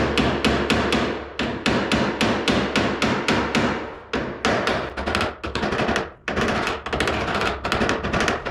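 A hammer and dolly beat the crushed metal roof of a car, producing fast, loud, sharp metallic strikes in quick bursts with brief pauses between runs, very close and ringing.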